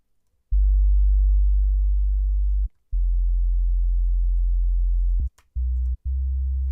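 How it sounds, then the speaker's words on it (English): Distorted tones play from a sampler driven by a small MIDI keyboard: loud, steady low buzzing notes held for seconds, separated by brief gaps, with two short final notes. "that's sounding distorted as hell"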